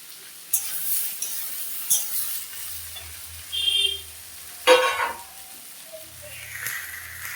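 Sponge gourd tipped into a pan of frying onions, with sizzling that swells in bursts alongside spatula stirring and light clinks against the pan, heard up close with no voices.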